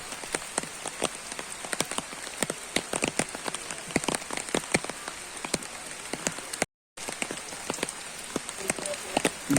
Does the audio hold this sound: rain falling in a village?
yes